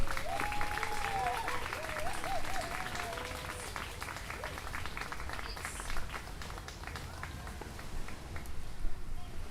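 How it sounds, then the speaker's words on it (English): Audience applause at an outdoor art festival, steady clapping from a crowd with a voice speaking over it and some brief melodic sounds near the start, moderately loud throughout. "if we can give them a round of applause for coming all the way down here to share with us"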